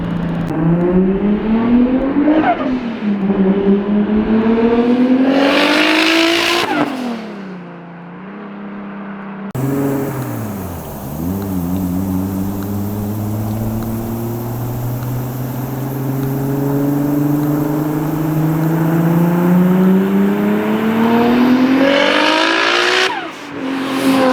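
A tuned 800 HP Toyota Supra engine revs loudly and repeatedly, pitch climbing and falling, with a brief tire squeal, close by and continuous for the whole stretch.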